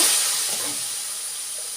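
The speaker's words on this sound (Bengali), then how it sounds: "রসুনটা দিয়ে কষিয়ে নিয়ে সামান্য জল দেব" Water poured into a hot pan of fried garlic sets off a steady broadband sizzle and hiss that starts loud and eases slightly, heard alone without talk.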